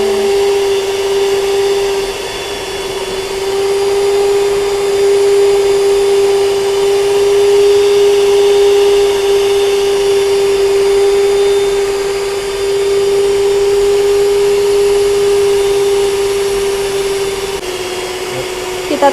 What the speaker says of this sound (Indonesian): di sini aku pakai mixer dari Wellcook cookware